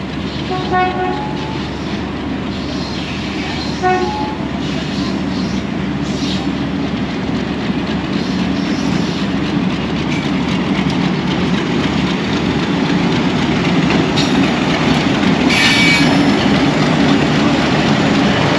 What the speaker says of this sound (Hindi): 12 डाउन हज़ारा एक्सप्रेस यहाँ पहुँच रही है और यहाँ पे क्रॉस अरेंज हुआ है।